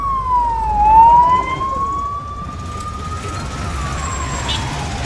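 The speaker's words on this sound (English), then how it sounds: "oh, ambulance." An ambulance siren passes along a busy Kathmandu street near Lazimpat, its wailing tone sliding down and back up over steady traffic rumble, fairly close and loud with no talking.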